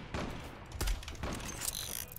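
Bursts of gunfire from a weapon in the Zula video game, a few rapid volleys at moderate loudness with brief gaps between them and no talk over them.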